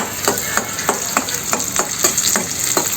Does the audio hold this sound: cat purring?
no